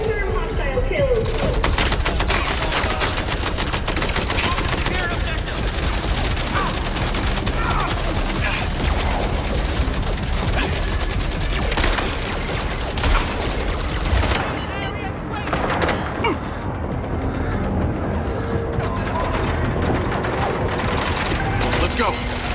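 Sustained heavy gunfire in the video game MindsEye, dense bursts of automatic fire and booming blasts that continue without a break over a loud combat mix, with voices calling out through the fighting.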